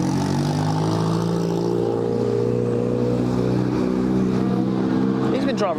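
A drift car engine drones steadily and loudly while driving slowly around the pits at a drift practice and car show, with a low continuous rumble and people talking over it throughout.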